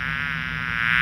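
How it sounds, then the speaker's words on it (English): A queen bee sound from the Animal 4D+ mobile app plays as a steady, close, continuous insect buzz with a bright droning tone and no pauses. "Queen bee."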